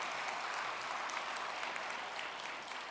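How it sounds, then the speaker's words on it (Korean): A church congregation at a lay retreat revival service claps together in celebration, a steady, even wash of applause filling the hall, moderately distant and continuous with no talk over it. "자축의 박수 한번 하겠습니다"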